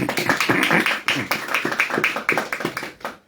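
A small audience at a literature and arts talk session claps in a loose, fairly rhythmic run of distinct, close claps that fades out at the end, with no speech.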